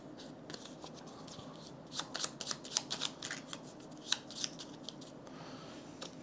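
Board game cards for Paladins of the West Kingdom are shuffled after a quiet start, with a cluster of sharp riffling flicks and snaps in the middle, then a faint rustle as it settles, close by, with no talk.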